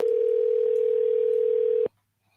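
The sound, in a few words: telephone dial tone and dialing a phone call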